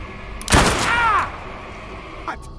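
A single sharp gunshot cracks close and loud in a film scene, followed by a ringing tail that fades within a second, with a faint shorter click afterward.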